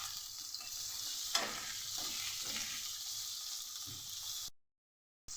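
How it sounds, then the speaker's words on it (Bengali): Chopped onion and cut potatoes fry in hot oil, a steady close sizzle with occasional stirring scrapes, before the sound cuts off abruptly. "তার সাথে দিয়ে দেবো কুচিয়ে রাখা পেঁয়াজ, আর তার সাথেই দিয়ে দেবো কেটে রাখা আলু। একসাথে লাল করে ভেজে নেব।"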